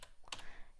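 Computer keyboard on an aarch64 Linux machine, a few quiet, close key taps in quick succession, with one sharper click standing out among them.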